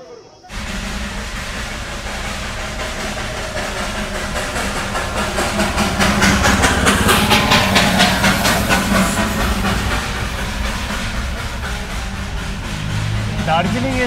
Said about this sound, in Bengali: আর এটা ছিল হচ্ছে স্টিম ইঞ্জিন।